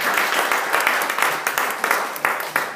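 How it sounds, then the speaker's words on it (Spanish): A church congregation claps in welcome for newcomers, a moderate, somewhat uneven round of hand claps with a few sharper individual claps standing out. "quería que la iglesia diera un aplauso de bienvenida a las personas"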